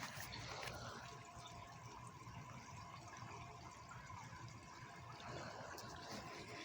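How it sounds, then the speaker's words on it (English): Water trickles and splashes steadily at a small creekside waterfall, a continuous, fairly faint rushing wash with no break and no voices. "We look at waterfalls, we listen to water."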